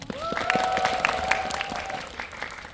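A cinema audience at a stage greeting applauds steadily, the clapping moderately loud and continuous, with a high whistle-like tone and scattered crowd noise over it.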